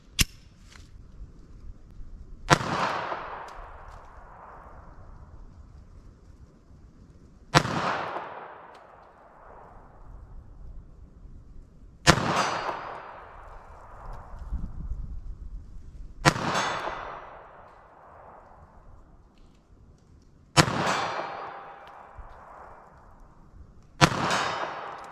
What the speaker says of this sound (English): those first few shots, I'm not really sure where they were going